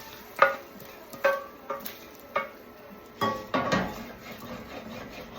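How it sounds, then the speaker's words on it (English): A whisk scraping browned sausage bits off the bottom of a pan for gravy, in a string of separate rasping strokes, about seven or eight in a row, close and moderately loud. "I'm just trying to scrape out the bottom sausages here"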